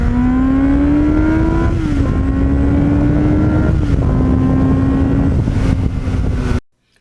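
A Kawasaki GPX750R sport bike with a Muzzy muffler accelerates hard through the gears. Its loud, close exhaust wail climbs in pitch, drops briefly at two upshifts, then cuts off abruptly.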